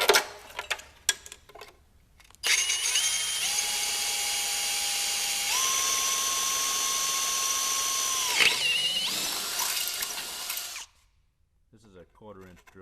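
Power drill with a 1/4 inch bit boring bracket holes for a 36-inch front suspension kit, running steadily loud for several seconds with a shift in pitch midway, then winding down and stopping, with short clanks before and after.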